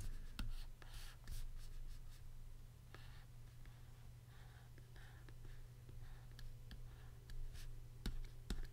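A pen sketches a chemistry structure, leaving faint, close scratching strokes and light taps over a low steady hum.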